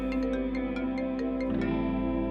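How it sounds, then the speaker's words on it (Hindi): A phone rings during a tense domestic scene in a drama, its electronic ringtone repeating a steady, bright melodic pattern of evenly spaced tones over a low hum, fairly close and clear with no talking. "फोन आ रहा है आपका।"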